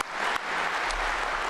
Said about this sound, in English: I will applaud you.